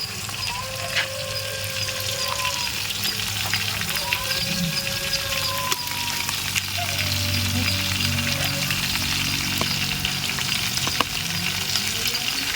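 Ginger and garlic frying in a pan while cooking a chicken biryani, a steady dense sizzle running throughout, with occasional stirring, some light tonal clatter and faint background voices.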